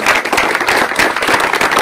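Audience applause at a Breton municipal gathering in Saint-Abraham, a dense steady wash of many hands clapping, fairly loud and close, holding evenly throughout with no voices.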